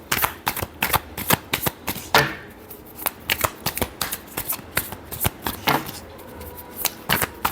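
Tarot cards shuffled by hand in a quick run of crisp riffling bursts and taps, close and clear, with short pauses between shuffles and no talking.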